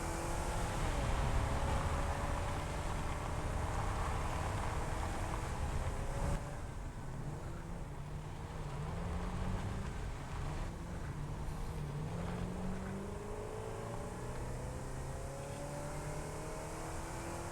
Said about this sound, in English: Oh, these engine noises just do my head in.